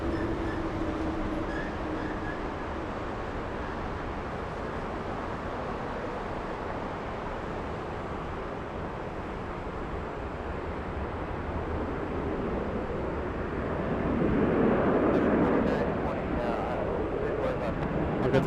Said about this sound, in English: Looks like we have one 717 touching down and one taking